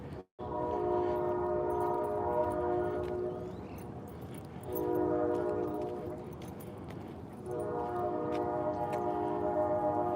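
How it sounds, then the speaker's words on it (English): A train horn sounds in three long, sustained blasts, carrying from a distance across a cold town during a dog walk, with a gap between each. "That's a train horn."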